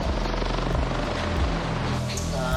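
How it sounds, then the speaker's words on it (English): A Westpac rescue helicopter flies over a beach during a search for a missing swimmer, its rotor thrumming loudly and steadily throughout, close overhead, with a hint of wind noise. "The Westpac rescue chopper joins in."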